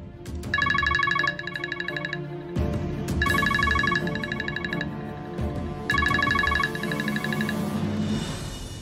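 A phone rings in repeated electronic trill bursts, three long rings separated by short gaps, over a steady musical score in a TV drama scene. No one speaks over it.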